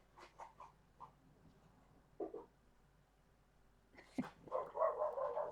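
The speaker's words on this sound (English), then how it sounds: "oh dear, dog's going past." A dog passing by gives a few faint, scattered barks and yips indoors, then a louder burst of barking at the end as it comes closer.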